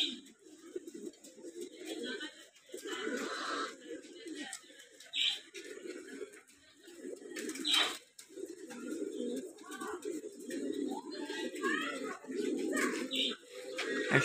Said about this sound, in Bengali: ভাদ্র মাসের আমেজ নিতেছে কবুতর।